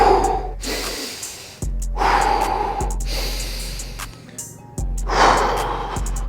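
Slow, deep breaths during a full-body stretching routine, a few long airy inhales and exhales spaced across the moment, close and fairly loud with no talking.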